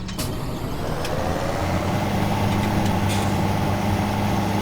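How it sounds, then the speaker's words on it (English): A tractor engine idles in Farming Simulator 17, a steady low diesel rumble with a faint whine that holds unbroken, close and fairly loud, with no talking. "let me grab this tractor"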